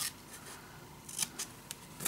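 Scissors cut paper corners for a scrapbook accordion envelope page, making a few quiet, crisp snips spaced unevenly, close up and with no talk.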